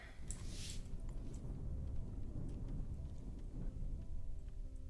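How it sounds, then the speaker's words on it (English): Thunder rumbles steadily in the video game Rise to Ruins as lightning strikes, with rain falling throughout and a brief sharp crack near the start. "Lightning's just hitting my walls quite a lot lately."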